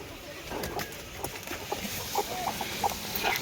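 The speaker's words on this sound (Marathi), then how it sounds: "बघा काय कोंबडी बसवली आज एक" A brooding hen set on eggs at a farm gives a few soft, close clucks over quiet outdoor background noise, with a faint voice nearby.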